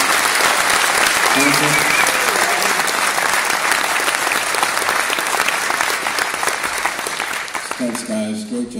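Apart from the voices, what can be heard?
audience applause for the sound crew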